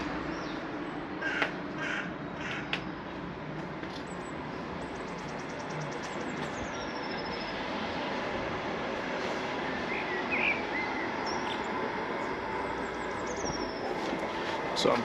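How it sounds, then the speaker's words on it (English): Steady outdoor ambience of a train station platform in Germany with a constant background hum, crows cawing intermittently, and occasional faint chirps and squeaks in the distance. "So I'm currently at the train station now, waiting for my train."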